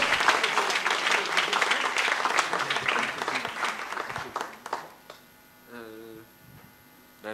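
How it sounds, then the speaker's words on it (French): Applause from the audience at a Grand Raid press conference, a dense burst of clapping lasting about five seconds before it fades, followed by a quieter stretch with brief voices. "Je crois que vous pouvez les applaudir très, très, très fort."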